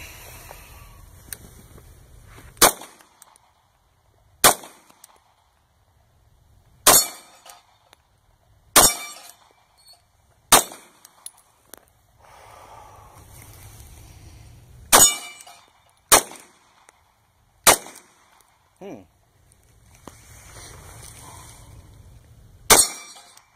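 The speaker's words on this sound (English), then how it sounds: "Gonna take some more slowed, controlled shots." Slow, controlled shots from an FNX 45 pistol: about ten sharp, loud reports spaced a second or more apart, each one alone against a quiet background with no talking.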